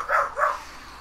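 Two quick barks from a pit bull named Ozzy, close and fairly loud, followed by a quiet room.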